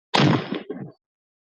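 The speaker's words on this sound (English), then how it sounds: "that is the York Revolution home run cannon" The York Revolution home run cannon at the ballpark fires one loud burst, a broad blast with a brief ragged tail lasting under a second, then silence.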